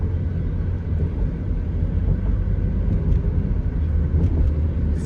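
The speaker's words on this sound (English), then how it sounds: "So we're shifting into second, we're shifting into third." A 2008 GMC Acadia with a swapped engine and a transmission converted from AWD to 2WD, heard from inside as a steady low engine rumble and road drone that holds loud and continuous while it shifts up through the gears.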